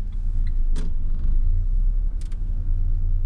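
A car reversing into a parking space gives a steady low engine rumble up close, with a couple of brief clicks over it.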